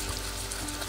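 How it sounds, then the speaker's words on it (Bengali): Potatoes frying in oil in a pan give a brief, steady, even sizzling hiss at moderate level, with no voices. "আর এখানে আলু ভাজতে বসিয়ে দিলাম।"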